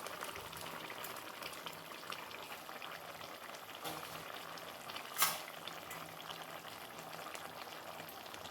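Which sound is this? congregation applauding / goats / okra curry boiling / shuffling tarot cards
okra curry boiling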